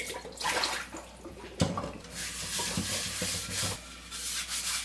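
A new clay pot is rubbed and scrubbed while being washed with water, giving wet scraping and splashing at close range with a sharp knock partway through and no talking.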